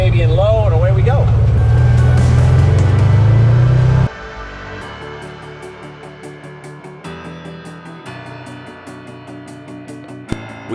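A four-wheel drive vehicle pulling away in low gear on an RV trip in Baja, Mexico: loud low engine rumble under talking for about four seconds, then giving way to music.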